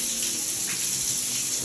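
Water gushing steadily from a hotel shower and flooding the bathroom floor in a Cuban city, a continuous broadband hiss of running water, close and fairly loud, with no talking.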